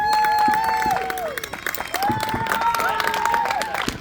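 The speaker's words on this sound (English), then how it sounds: "Everybody cheer." A crowd at a fireworks show cheers and claps continuously, with whistles and rising voices layered over steady applause throughout.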